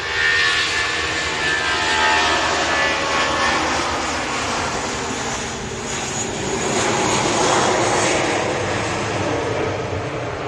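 Airliner jet engines roaring loudly and continuously, a dense broad rumble with swelling and easing surges, close and alone without voices.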